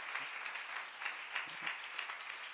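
A church congregation claps together in a soft, steady wash of applause, heard from a distance and fairly faint, with no voices over it.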